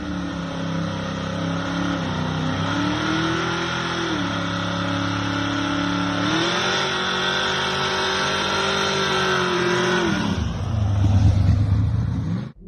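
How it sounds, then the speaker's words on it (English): An AMC Gremlin hot rod doing a burnout, its engine droning at steady high revs with slight pitch dips, then a harsher rising roar near the end before cutting off abruptly. "This Reddit user filmed the burnout of an AMC Gremlin hot rod."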